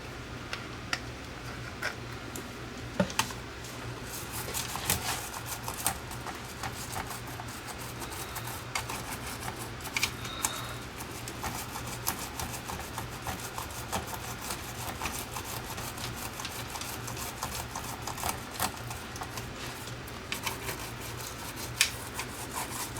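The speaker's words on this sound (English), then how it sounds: "We'll scrub away in that area of the board where all that corrosion is and see if we can get rid of it." A toothbrush dipped in alcohol scrubs corrosion off a circuit board from a Sony SL2500 Betamax, a faint, close, continuous rapid scratching and rubbing with occasional small ticks, alone without talk.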